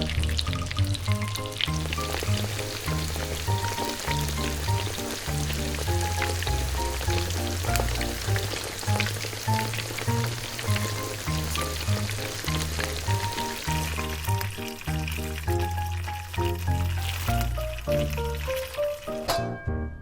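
Butter sizzles and fries in a tiny miniature pan, a continuous bright crackling hiss layered under steady music throughout, with no talking.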